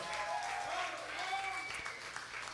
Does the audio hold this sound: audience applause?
yes